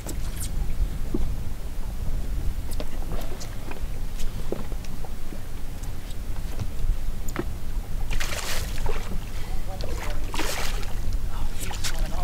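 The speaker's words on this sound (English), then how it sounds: "Okay, I got a trolling motor." A boat's trolling motor runs on the water in a steady, close wash of motor and water noise that lasts the whole time, with scattered splashes and knocks.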